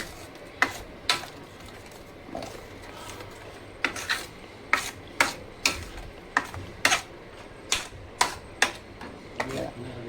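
Spoon scraping and tapping through thick green spinach paste in a pan for Marathi-style palak paneer, a series of sharp, irregular clinks and rubs spread across the stretch with faint background murmur.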